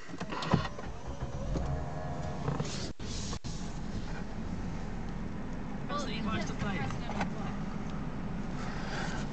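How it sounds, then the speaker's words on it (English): A Lexus IS250C convertible starts up with a short mechanical click. Its engine then settles into a steady, low, close rumble that continues throughout. "Just start the car."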